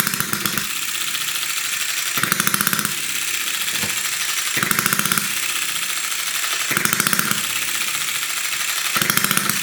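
A 6cc hit and miss model engine runs on a bench, a loud close rapid chugging rhythm that swells into a stronger firing burst roughly every two seconds, with no talking.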